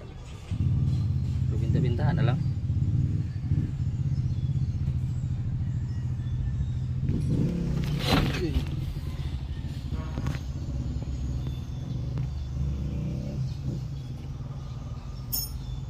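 A Hyundai Porter 2 TCI diesel engine runs with its exhaust giving a steady low rumble, broken by a few brief clattering sounds.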